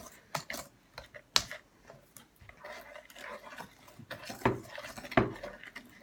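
Brownie batter with cocoa powder is stirred in a bowl, giving scattered clinks and scrapes of utensil on dish, soft and irregular, with quiet voices in the background.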